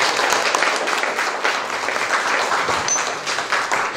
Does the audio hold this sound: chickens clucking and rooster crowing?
no